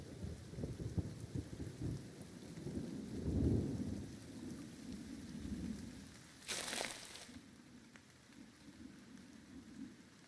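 Rainstorm in the video game Pillars of Eternity: a steady patter of rain with rolling thunder rumbles, one louder swell early on and a brief bright crackle midway, continuing at a moderate level.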